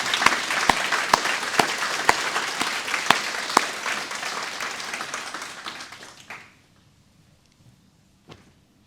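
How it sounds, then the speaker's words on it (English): Applause from an audience at an iftar gathering, dense clapping with a few sharp louder claps, fading out after about six seconds into near silence, followed by one faint knock. "let's just give them and everyone a huge round of applause for putting this together in such short notice."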